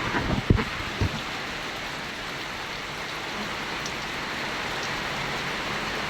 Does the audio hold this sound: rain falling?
yes